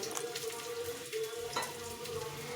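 Onion frying in a pan on the stove while cooking a Bengali singhi fish curry, a steady close hiss and crackle running throughout with faint clinks.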